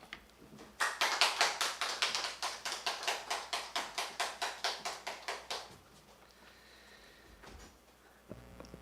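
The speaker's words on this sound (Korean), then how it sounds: "나오실 때 큰 박수 쳐주시고 격려해 주시고" A church congregation at an early-morning service claps for the preacher, about twenty evenly spaced, fairly sharp claps in a steady rhythm that stop abruptly, leaving a quiet room.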